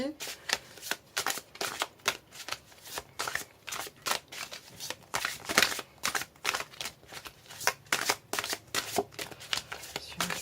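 Oracle cards shuffled by hand in a quick, close series of riffling bursts repeating steadily, with someone speaking softly in between.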